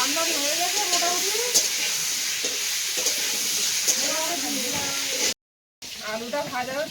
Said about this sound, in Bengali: আলুটা ভাজা হচ্ছে